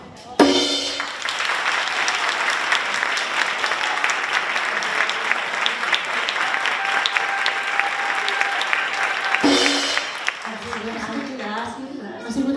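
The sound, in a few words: audience applause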